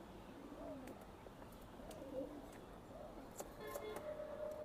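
Racing pigeons, including a breeding pair, coo quietly in a loft, faint low calls recurring under light background noise with a few sharp ticks.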